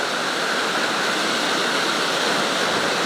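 The Cascade du Bout du Monde waterfall roaring steadily, a dense, continuous rush of falling water close by with no breaks or other sounds.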